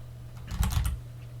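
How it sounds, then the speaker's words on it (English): A short burst of a few quick keystrokes on a computer keyboard as a command is typed into an Ubuntu Linux terminal. The clicks are close, fairly soft and over a steady low hum. "let's type this command one by one or copy and paste"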